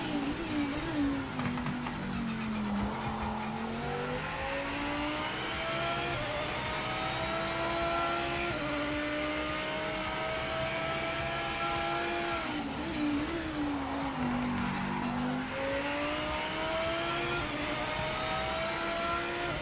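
Race car engine in Project Motor Racing, a sim racing game, revving high and shifting through gears with rising and falling pitch sweeps, loud and continuous with no talk.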